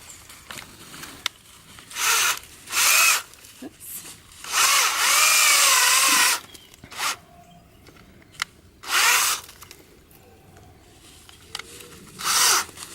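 A cordless drill boring a tap hole in a maple tree whirs in short bursts, one longer run in the middle, with quiet pauses and faint rustling between, close by and loud.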